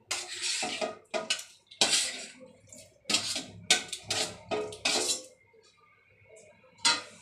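Beef being added to a cooking pot with turmeric and salt, bursts of clattering metal, scraping and wet sloshing, close and fairly loud, broken by short pauses.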